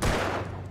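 A loud gunshot burst in the Alan Wake video game, a close, sharp blast with a brief fading tail and no speech.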